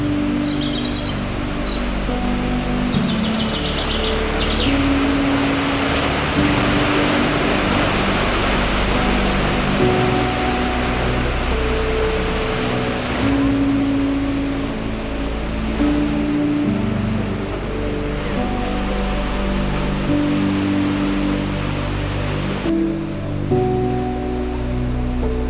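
A waterfall in the rainy, forested south of Chile roars as a loud, constant broadband rush of falling water, unbroken throughout, with no voices.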